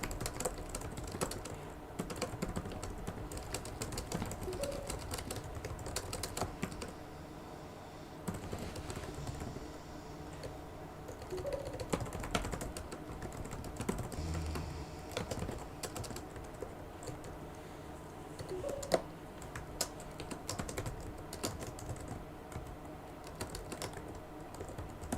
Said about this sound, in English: I'm just typing in Dex lobby too.